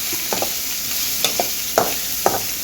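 Chopped green chillies frying in a pan, a bright steady sizzle up close, punctuated by several quick ladle taps and stirring scrapes.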